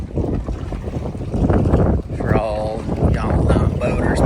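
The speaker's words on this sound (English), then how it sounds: "pretty stiff east wind." A stiff east wind blows across a boat near Put-in Bay, roaring and buffeting the microphone steadily throughout, with water motion below and a voice speaking over it.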